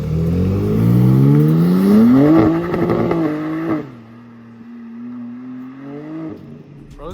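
A BMW G87 M2 exhaust revs hard while accelerating on a backroad, with rising and falling engine harmonics that peak and then settle into a lower steady drone, loud and close, with no talk over it.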